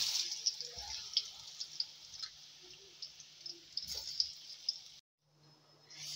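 Potato chips fry in oil in a kadhai with a steady high sizzle and scattered pops, close and fairly quiet, before the sizzle abruptly drops away near the end.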